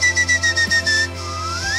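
A person whistles a short series of about seven quick, clear notes followed by one longer held tone, close and alone, with a faint rising tone at the end.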